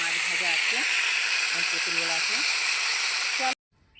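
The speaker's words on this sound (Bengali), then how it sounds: "কুমড়ো আর ঢেঁড়স ভেজে নিচ্ছি" Pumpkin and okra sizzle in hot oil in a pan, a loud steady frying hiss that holds for several seconds before cutting off abruptly, with a person talking over it.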